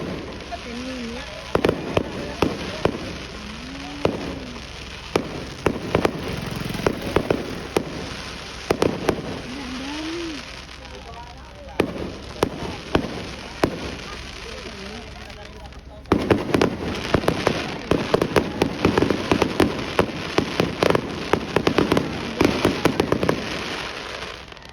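Fireworks display bursting repeatedly during a night show in Bohol, with sharp crackling explosions in irregular clusters, some louder and denser near the end, while people chatter and exclaim throughout.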